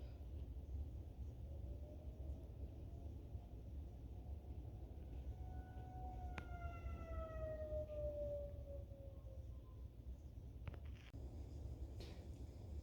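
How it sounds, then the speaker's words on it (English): A faint, distant tornado warning siren in Rolla, Missouri wails with a slowly falling pitch over steady background rumble, with no voices. "Sirens are going off for the 5th time now."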